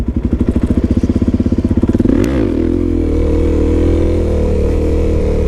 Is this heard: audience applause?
no